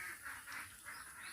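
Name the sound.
ducks quacking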